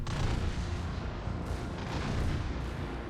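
Warship gunfire in the World of Warships video game: a dense, continuous roar of booming shots and rumbling explosions, moderately loud and mixed together with no clear gaps.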